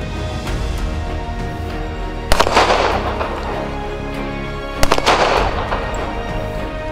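Two loud pistol shots at a special forces shooting competition in Jordan, spaced a few seconds apart, each with a sharp crack and lingering outdoor echo.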